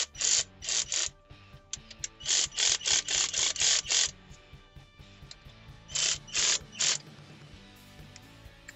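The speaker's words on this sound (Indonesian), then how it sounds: "mengencangkannya dengan kunci torsi itu juga silang, tidak boleh berurutan" Torque wrench ratcheting in short bursts of rapid clicks while tightening bolts on a Chevy, several clusters separated by pauses, fairly close and crisp over a low background hum.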